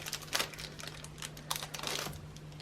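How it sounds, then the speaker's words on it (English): MPS magnetic bracelets being taken out of their packaging, giving a few light close-up clicks and rustles in an otherwise quiet room with no talking. "Take the bracelets out of the packaging"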